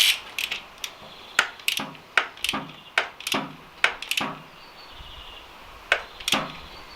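A wrench ratchets as a motorcycle sump plug on a Royal Enfield Interceptor 650 Twin is torqued back in: close, crisp clicking strokes in short irregular bursts, with brief pauses between pulls and no talking.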